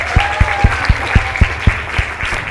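An audience at a school presenter introduction claps in a steady beat, about nine evenly spaced loud claps over a couple of seconds against a background murmur, sounding close and rhythmic rather than a scattered ovation.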